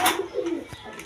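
Silver pigeons, two pairs kept with their young, give a short low coo that rises and falls, close and fairly loud, with a sharp knock partway through and no talk.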